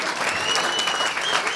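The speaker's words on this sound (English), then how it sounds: "How about a round of applause for our band" Steady applause from diners for a band at a welcome dinner for a climate alliance conference, a continuous wash of many hands clapping at moderate volume, with a faint tonal hum under it.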